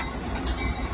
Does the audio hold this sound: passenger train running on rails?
yes